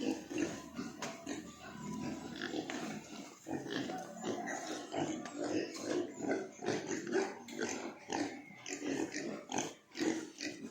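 Pigs on a farm grunting and oinking continuously at close range, with overlapping snorts and snuffles from several animals being checked at feeding time.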